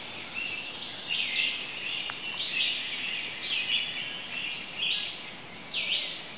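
A Least Bittern sings from a reed-lined lake in Michigan, repeated soft calls spaced through a steady wash of marsh background noise, moderately distant.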